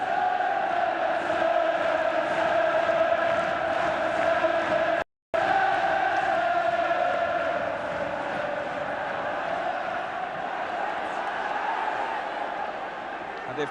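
A home crowd at Everton's ground roars its team forward during a European Cup Winners' Cup semi-final against Bayern Munich, a sustained loud chanting swell that fills the stadium, with a brief dropout partway through.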